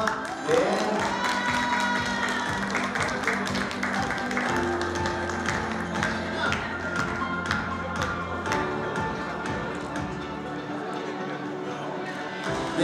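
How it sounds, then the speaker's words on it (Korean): An audience at a senior fashion show applauds a professor coming onstage, with scattered, continuous hand claps and taps running under a host speaking into a microphone. "큰 박수 부탁드리겠습니다"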